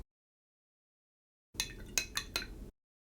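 A watercolour brush is rinsed in a water jar, giving a short burst of swishing and a few light clinks against the container, close and alone after a moment of silence.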